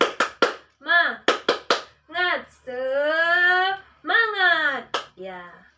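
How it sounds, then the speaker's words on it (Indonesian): Indonesian classroom pupils perform the rhythmic 'tepuk semangat' clapping routine, sharp clustered hand claps in patterns alternating with loud chanted and sung group voices, close and lively. "Ibu akan pimpin kita untuk tepuk semangat"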